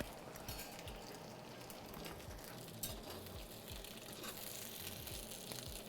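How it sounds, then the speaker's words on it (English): Perogies sizzle in a hot frying pan, a dense, even crackle close by with one small pop near the middle and no talking. "Yeah, listen to the Perogies."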